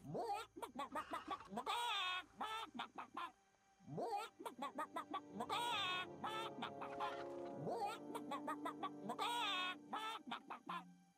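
Chickens in World of Warcraft give a series of close, clear clucking calls in several bursts, separated by brief gaps.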